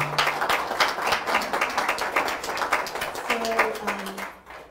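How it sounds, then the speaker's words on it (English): Clapping audience gives a big hand at a talk on multicultural democracy, a steady dense patter of many hands running throughout, with a few words spoken over it near the end before it fades. "Big hand of applause."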